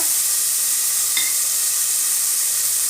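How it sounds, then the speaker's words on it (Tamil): Onions, green chili, curry leaves, garlic and cumin sizzle steadily in a hot pan, a loud continuous frying hiss with a brief stir scrape, no voices. "பூண்டு சீரகம் இப்போ எல்லாமே போட்டு நல்லா மிக்ஸ் பண்ணிக்கோங்க நல்லா கொஞ்சம் லைட்டாக நல்லா வந்து வதங்க விட்டுக்கலாம்"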